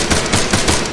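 Machine gun fire rings out in the military game ARMA 3, a loud, close, rapid stream of shots in rhythmic bursts filling the whole moment.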